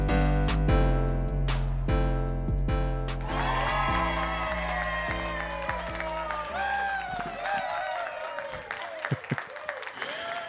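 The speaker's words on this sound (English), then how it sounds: "one heck of an applause to come into the new show with" A studio audience bursts into applause and cheering as a new rap-themed show opens, the crowd noise swelling right after a short burst of beat-driven music and holding steady, loud and dense, through the rest.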